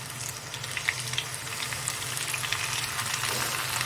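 Fish coated in spice masala fries in a pan over low heat, giving a steady, close sizzle with soft crackling pops and no talk.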